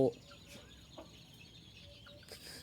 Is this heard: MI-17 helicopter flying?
no